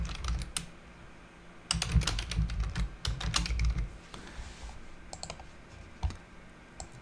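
Computer keyboard typing and mouse clicking entering a search, a close run of quick keystrokes and clicks with a denser burst of typing midway, quiet room, no talking.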